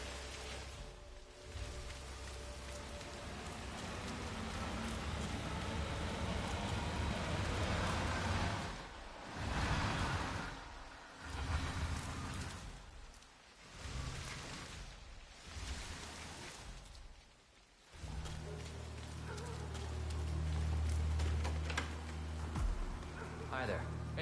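Rain in the video game Hitman 3 forms a background hiss that rises and falls. Talk and other game sounds come and go over it, and a low rumble appears near the end.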